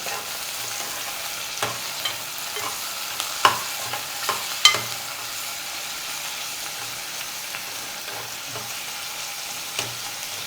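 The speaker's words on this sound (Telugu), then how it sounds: "ఇప్పుడు టమాటా ముక్కలు అయితే వేసేస్తున్నాను ఇవి కూడా బాగా వేగిపోవాలి" Tomato pieces frying in a pan for a Korameenu fish curry, a steady close sizzle broken by spatula scrapes and sharp clinks against the pan, with no voices.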